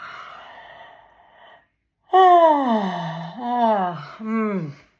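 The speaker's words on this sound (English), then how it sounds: "Take a big yawn, a voluntary one." A person gives a long, drawn-out yawn with a falling, groaning tone, followed by two shorter voiced exhales; a faint breathy sound comes first.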